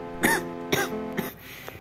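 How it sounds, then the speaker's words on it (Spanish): A few sharp coughs, close to the listener, come in a spaced series of three with a softer fourth trailing off. "Tengo una tos que literalmente me está cagando el video"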